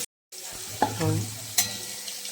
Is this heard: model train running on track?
no